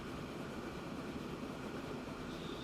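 A train running in the transport-building game Transport Fever 2, a faint, steady rumbling roll with no breaks, heard alone.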